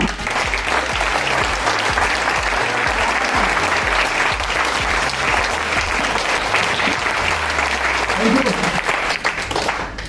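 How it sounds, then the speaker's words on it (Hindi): A hall full of participants at a basic training program in Prayagraj breaks into loud, sustained applause for SLPS Wellness, thick, continuous clapping that holds strong for about ten seconds. "मैं चाहूंगा एसलीपेस वेलनेस के लिए एक जोरदार तालियां"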